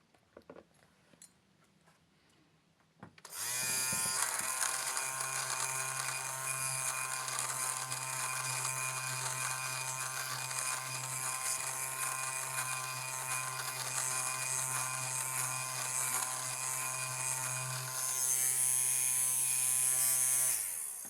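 An SR-267 electric lint remover starts after a quiet moment and buzzes steadily and loudly as it shaves pills off fabric, holding an even whine throughout.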